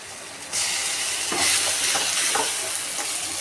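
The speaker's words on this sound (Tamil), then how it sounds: "இந்த வெங்காயம், இந்த தக்காளி பார்த்திங்கன்னா நல்லா ரோஸ்ட் ஆகிட்டு வந்துருச்சு" Onion, tomato and ginger garlic paste fry in a pan for a curry, giving a steady loud sizzle with a few scraping stirs partway through and no talking.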